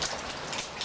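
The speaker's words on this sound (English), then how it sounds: "Definitely has rained a good bit today." Steady rain patters down during a springtime thunderstorm, a soft, even hiss of drops falling on surfaces with no voices present.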